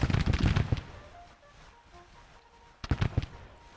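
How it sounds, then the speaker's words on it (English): Colt revolvers fired by cavalry troopers in a Civil War strategy game, two quick clusters of rapid popping shots separated by a quieter gap, sounding somewhat distant. "You guys have Colt revolvers, so fire fast."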